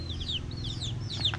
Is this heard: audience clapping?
no